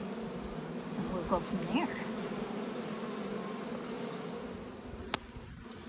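Honey bees buzzing around an opened hive, a steady low drone close by with a few louder individual passes and a sharp click near the end, while a person speaks briefly.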